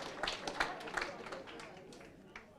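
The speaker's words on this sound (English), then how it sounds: "Let's clap for them." An audience at an investor education conference claps in a short burst of scattered, irregular hand claps that fade within a couple of seconds, mixed with background murmur.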